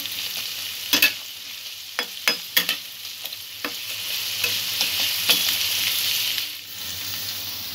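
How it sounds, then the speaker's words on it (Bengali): Cashews and raisins frying in a pan, a steady close sizzle broken by a few sharp stirring scrapes and clinks, with no voices. "সামান্য ভাজা করে নেব।"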